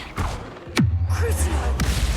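A Confringo fire spell is cast in the video game Hogwarts Legacy: a sharp, falling whoosh leads into a loud, rumbling fiery burst, after a brief softer swish just before it.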